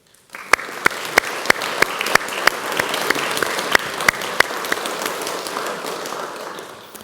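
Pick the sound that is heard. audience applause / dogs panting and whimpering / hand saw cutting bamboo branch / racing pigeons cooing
audience applause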